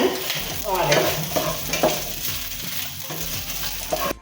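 Chopped onion frying in heated coconut oil, a lively sizzle broken up by repeated scraping and stirring strokes of a spoon against the pan.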